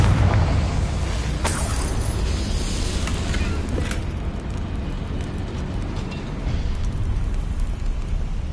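In Hogwarts Legacy, a Confringo fire spell bursts with a loud booming explosion followed by a sustained roaring, crackling rumble of flames that stays heavy and dense throughout.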